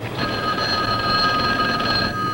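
A telephone rings in a phone booth in the film Abby, a loud electric bell trill sounding continuously for about two seconds, close and alone.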